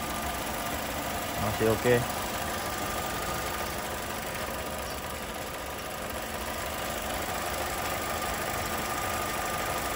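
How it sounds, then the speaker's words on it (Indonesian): A 2013 Chevrolet Spin LT with a 1.2-litre engine and manual gearbox idles steadily at close range, a low continuous hum running throughout, with brief speech near the start. "Bisa kita dengar nih, ada suara apapun ya wajar, ini masih suara mesin saja."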